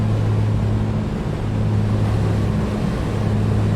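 Piper Comanche 250 piston engine in Microsoft Flight Simulator, settling toward 2,100 RPM: a steady, loud, low droning hum with strong tonal lines, continuous and unbroken, with no talk over it.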